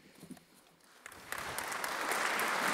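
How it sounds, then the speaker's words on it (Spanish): Applause rising from the bishops and conference presidents at the close of Pope Francis's speech at a Vatican meeting on child protection, starting faint and swelling into a broad, sustained clapping that fills the hall. "Un discurso del Santo Padre que ha recibido un gran aplauso"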